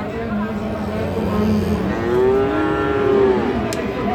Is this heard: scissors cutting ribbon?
no